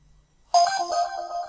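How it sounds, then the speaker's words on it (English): A short electronic notification chime from deal-alert software rings out alone after silence, a bright tonal alert that sustains with a couple of pitch steps for about a second. "you can even make it use just a little sound notification if you want to make it more subtle"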